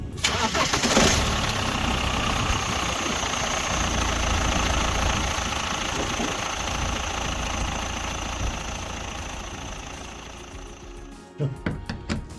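BMW diesel engine starting during an engine flush, a cranking catch and then a steady, slightly clattery idle that drones on evenly, with a few clunks at the end.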